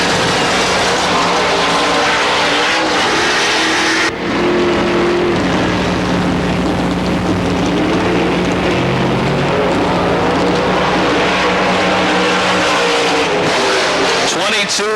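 A race car engine roars continuously on a qualifying lap at Tyler County Speedway, loud and close with shifting pitch as it circles the track, while an announcer talks over it.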